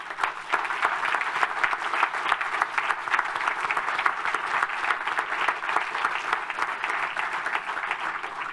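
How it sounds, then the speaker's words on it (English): Sustained applause from a large conference audience closes a European leadership event, a thick, even wash of many hands clapping at once that stays loud and continuous throughout. "So please give them a huge, huge applause."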